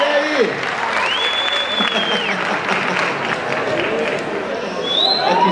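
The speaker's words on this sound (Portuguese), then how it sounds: "Palmas pra ele!" Audience applause for a famous Brazilian viola player at a gospel praise concert: loud, continuous clapping with crowd noise and occasional shouts, backed by sustained musical tones throughout.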